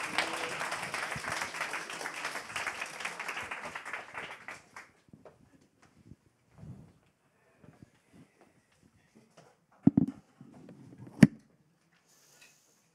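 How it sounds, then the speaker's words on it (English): An audience at a live-streamed greenhouse horticulture event claps for the panelists, a brief burst of applause lasting a few seconds and then fading into near silence with a few scattered taps and knocks. "Give a big applause to our panelists"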